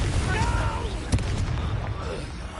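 Confringo explosive spell in the Hogwarts Legacy video game: a sharp blast bursts out midway through a dense, loud rumble of battle effects.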